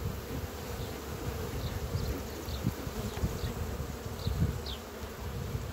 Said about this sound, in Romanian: Iată cum se retrage albina și de la șmecherie.